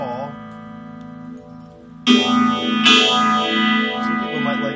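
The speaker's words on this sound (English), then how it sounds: "If you go too far, there's no phasing at all." Electric guitar chord ringing through an MXR Phase 90 phaser pedal with its bias trimmer turned too far, leaving no phasing; the sustained chord is steady and close, then a louder strummed chord rings out alone.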